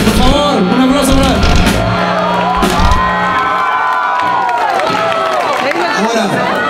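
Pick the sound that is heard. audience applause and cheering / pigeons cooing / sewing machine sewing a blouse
audience applause and cheering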